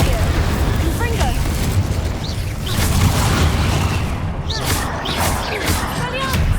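A fiery explosive spell goes off in the wizarding game Hogwarts Legacy, a dense rumbling roar of blasts and crackles that fills the whole stretch at high volume, with spoken voices mixed in.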